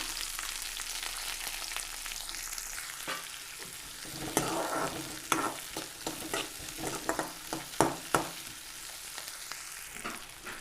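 Small shallots sauté with curry leaves in a pan, a steady close sizzle broken by scraping and stirring knocks that grow busier and louder toward the end, with no talking.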